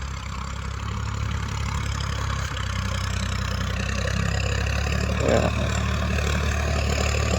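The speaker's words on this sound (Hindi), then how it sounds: "नंबर 1 जुताई हो रही है ये" A tractor engine runs steadily and loud while tilling a field with a rotavator, a constant low mechanical drone with no speech.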